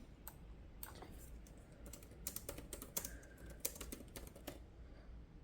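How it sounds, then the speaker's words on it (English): Rapid clicking of keys on a secondary laptop keyboard in a home art studio, a steady run of quiet, close taps with a few louder bursts over low background hum. "So I have my secondary, like actual laptop keyboard up here. So that's how I'm typing."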